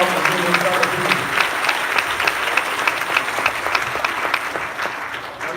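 Sustained, even applause from a conference audience, many hands clapping at a steady level close by before it tapers slightly at the end.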